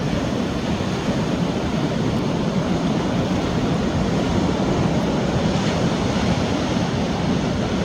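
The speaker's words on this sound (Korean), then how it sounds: "파도 소리 아주 멋져 버려요" A continuous roar of ocean surf breaking on Dongho Beach in Gochang, South Korea, in November, steady and full without pause, mixed with some wind buffeting.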